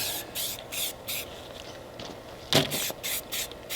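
A rattle can of spray paint lightly dusts a camouflage pattern in short crisscross passes, several brief hissing bursts with gaps between them and one slightly louder burst near the end.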